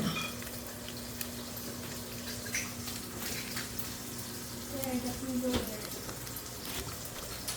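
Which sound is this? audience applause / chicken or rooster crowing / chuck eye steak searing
chuck eye steak searing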